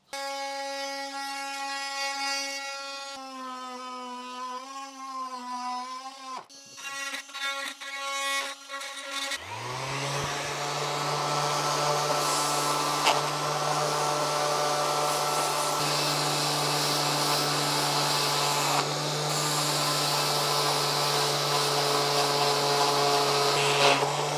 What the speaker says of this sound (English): we're just sanding this outside edge till it's going to be smooth